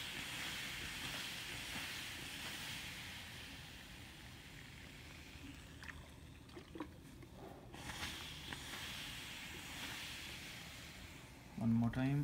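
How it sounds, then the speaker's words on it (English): A clogged steam iron, being flushed with a vinegar and water solution, hisses steadily with a continuous broad rush of steam, fairly soft and sustained, with faint clicks and a brief tone near the end. "Let's one more time flush the steam from"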